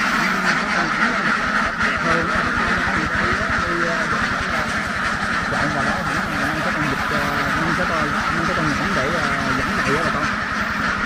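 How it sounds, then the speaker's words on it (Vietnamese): Large flock of young laying ducks on a farm in the Mekong Delta, a dense continuous chorus of overlapping quacks, loud and close, with a person talking over it. "đàn này là do vịt mới đẻ thôi, vịt so"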